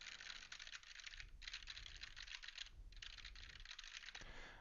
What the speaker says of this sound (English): I'm going to type on this keyboard, and you can hear the way the background noise rejection sounds like.